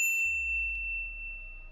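A bright single notification bell ding rings out clearly, its tone sustaining and slowly fading over a low background hum, with no talking.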